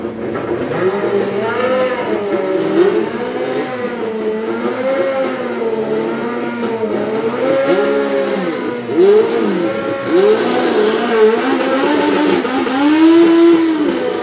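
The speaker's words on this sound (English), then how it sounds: "So is this an all-run field of Nostalgia Pro Stock bikes then?" Nostalgia Pro Stock drag bikes race at a drag strip, high-revving engines wailing loud and sustained as they accelerate, their pitch rising and falling through gear changes.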